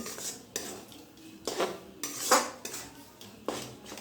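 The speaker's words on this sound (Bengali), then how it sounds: "এবারে গ্যাসের ফ্লেমটা মিডিয়ামে রেখে এই মশলার সঙ্গে কচুটা আরও কিছুক্ষণ কষিয়ে নিতে হবে" Taro being sautéed with spices in a pan over a medium flame, heard as a run of distinct metal clanks and scrapes of a utensil against the pan, close, with only a faint sizzle beneath.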